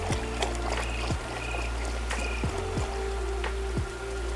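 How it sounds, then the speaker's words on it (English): Water splashes and trickles as it is poured out of a gold pan and fresh water is poured back in, close and moderately loud, with bright dripping and sloshing throughout and no talking. "Get rid of the water and place some new water in the pan."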